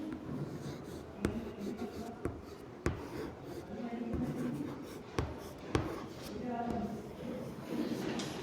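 Pencils scratching on paper as second-grade students write words into their notebooks in a classroom, a steady soft scribbling texture with occasional taps and thumps, under low room murmur.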